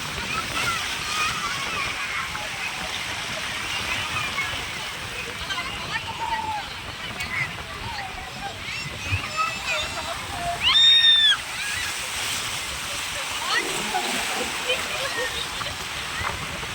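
Sea waves at Kanyakumari beach wash and splash against stone steps, a steady sloshing roar with a louder surge midway, while people talk and other voices sound nearby on the busy shore.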